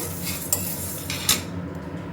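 Lentils being fried on low flame in a pan while a metal spoon scrapes and clinks against the pan in two sharp strikes, over a low steady background with no speech.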